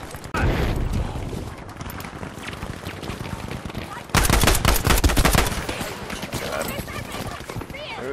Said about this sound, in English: Who's shooting me in the back?